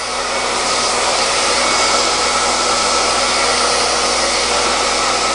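A hair dryer blows steadily while blow-drying hair, a loud, constant whooshing roar close to the microphone with no breaks and no talking.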